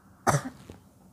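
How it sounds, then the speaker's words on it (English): A single sharp cough, close and alone against a quiet background. "Sorry for the cough."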